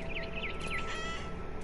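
Barn swallow chirping in What Remained of Edith Finch: a few short, bright, sweeping chirps early on, faint and a little distant, over a steady low ambient hum.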